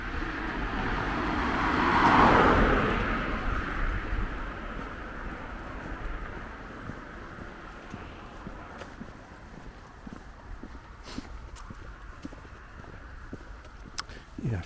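A car passes close on a city road in York, swelling to a loud whoosh and then fading, followed by quieter traffic and outdoor ambience with light wind.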